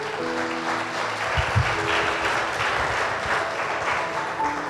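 A church congregation gives loud, sustained applause, a dense continuous roar of clapping with a low musical hum underneath.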